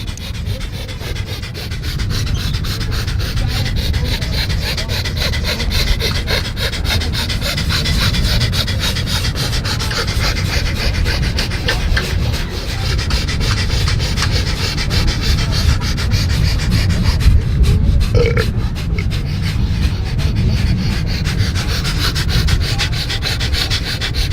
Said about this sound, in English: All right, here we go. Breath of fire.